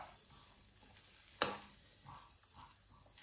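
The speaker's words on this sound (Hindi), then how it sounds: "इनको अच्छी तरह मिक्स कर लेंगे, बस एक मिनट हम इनको और फ्राई करेंगे।" Liver masala with capsicum fries in a pan, a soft continuous sizzle broken by one sharp scrape or clatter of a spoon, with faint stirring afterward.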